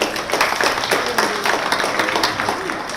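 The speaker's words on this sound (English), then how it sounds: "Let's give him a round of applause." An audience at a middle school athletic event ceremony gives a round of applause for the athletic director, a sustained wash of many clapping hands with scattered sharper claps and a murmur of crowd underneath.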